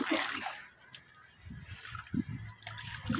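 Water splashes and sprays intermittently while an Isuzu Crosswind engine is washed, with bursts of spatter and dribbling amid quieter gaps.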